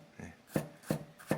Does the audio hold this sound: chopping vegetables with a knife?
yes